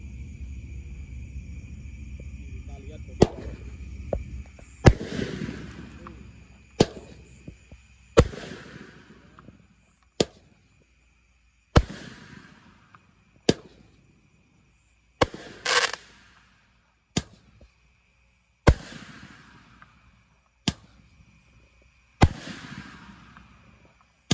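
An 8-shot roman candle fires at night, with about a dozen sharp, evenly spaced pops, each trailing into a short hiss and crackle.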